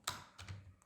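Keys clack on a computer keyboard while HTML is typed, a couple of soft, close taps spread over a brief moment, with no voices.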